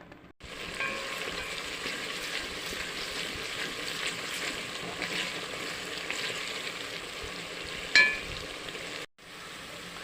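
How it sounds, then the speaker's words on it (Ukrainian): Onion frying in oil in a pot for zucchini puree soup, a steady close sizzle and crackle throughout with a brief clatter near the end, no talking. "Починаємо жарити до золотистого кольору."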